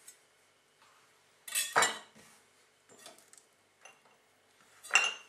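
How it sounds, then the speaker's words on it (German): Sliced onion rings and garlic mixed together in a bowl, with a few sparse clinks and scrapes of utensil against dish at close range, separated by near-silent gaps and no talk. "Zwiebel und Knoblauch schön mischen und in eine extra Schale"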